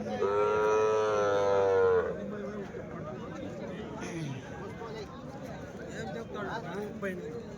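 Cattle, including pairs of bullocks, at a weekly Sunday cattle market in Chintamani: one loud, drawn-out moo opens, followed by a busy outdoor crowd murmur with people talking.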